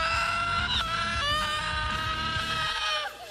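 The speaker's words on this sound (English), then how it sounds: "her trademark scream gets annoying really fast" A woman's long, piercing scream on the 2008 reality competition Scream Queens, high and sustained with wavering pitch, loud and close, tailing off at the end.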